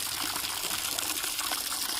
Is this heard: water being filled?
yes